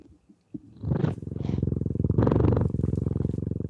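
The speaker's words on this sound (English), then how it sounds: "you can hear him purring" A pet cat held in someone's arms like a baby purrs steadily and close up, a continuous rhythmic rumble after a few faint rustles at the start.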